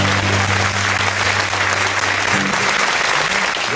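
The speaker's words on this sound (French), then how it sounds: "vous pouvez d'ores et déjà vous applaudir bien fort" Loud, close applause from a comedy show audience, a thick continuous clatter of clapping hands that fills the whole stretch, with a faint low hum beneath it early on.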